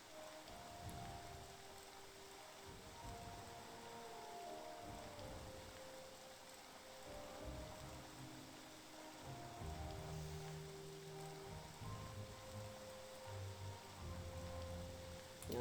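Steady rain falls in the game Morrowind, a soft continuous hiss of drops under faint background music, with no talking.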